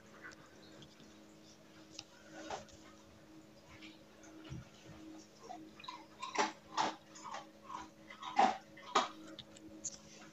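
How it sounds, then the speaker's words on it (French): A pet dog eating dry kibble, with irregular, crisp crunching bites close by that grow louder and denser toward the end, over a faint steady hum. "J'ai mon chien qui mange. Donc, vous l'entendez croquer dans les croquettes."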